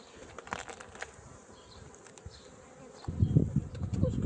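Honey bees from a weak colony hum around a reed beehive in an apiary, a steady close buzz that swells noticeably louder near the end, with faint handling noises and no talk.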